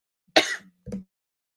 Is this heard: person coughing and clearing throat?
yes